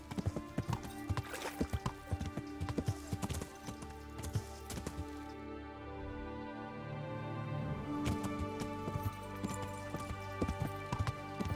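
A horse's hooves clip-clop steadily in Kingdom Come: Deliverance, close and rhythmic, pausing briefly in the middle before the trotting resumes.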